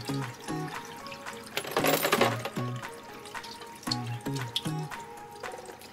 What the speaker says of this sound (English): We're gonna start dumping some of the fluid on the outside of it here.